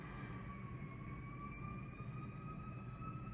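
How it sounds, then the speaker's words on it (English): A distant siren wails steadily over a low, rumbling background, faint and continuous with no voices. "I hear the sirens."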